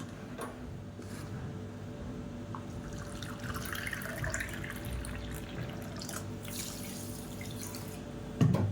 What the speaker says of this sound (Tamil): ஒரு கப்பு தண்ணி ஊற்றிக்கலாம்